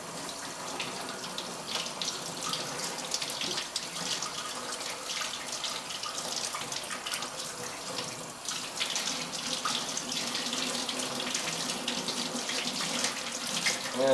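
Tap water runs steadily while rinsing a travertine stone sample with plain water and no soap, a close, continuous splashing hiss with small shifts in flow and no voices.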